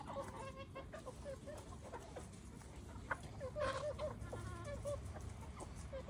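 Native chickens on a Philippine farm cluck in short repeated bursts at moderate distance, with soft background noise around them.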